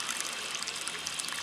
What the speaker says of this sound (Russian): Вот он такой источник, текет водопад